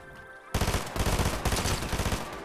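Video-game gunfire starts abruptly after a quiet moment, a fast rhythmic string of loud, close automatic shots.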